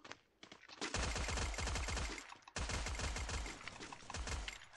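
SMG fire in the mobile shooter Free Fire: two long, fast bursts of close, loud shots, split by a short break and preceded by a few scattered rounds.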